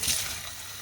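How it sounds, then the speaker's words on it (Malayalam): Water is poured into a bowl of chana dal to soak, giving a brief, steady splashing rush that stays fairly loud and close throughout. "നമുക്കിതിൽ വെള്ളം ഒഴിച്ചിട്ട് ഒരു അരമണിക്കൂർ ഇതൊന്ന് കുതിരാൻ വെച്ച്"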